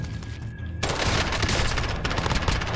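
Rapid, dense gunfire fills a Call of Duty: Warzone firefight, with a sustained loud barrage of shots that starts abruptly after a brief quieter moment and continues without a break.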